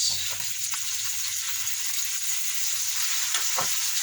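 Chopped tomatoes with onion and garlic frying in a pan, a steady close hiss of sizzling oil with a few soft scrapes of stirring, no talk.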